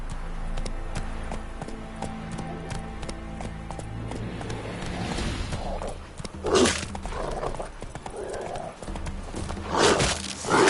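Roach the horse in The Witcher 3 trots with steady clip-clopping hooves, then lets out loud whinnies near the end, with no talking.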